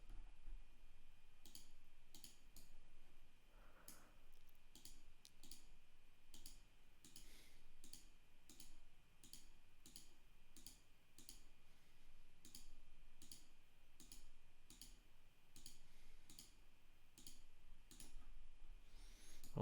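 Mouse clicks while working in CAD software, sharp, close, evenly spaced single clicks repeating through a quiet room with a faint steady hum underneath.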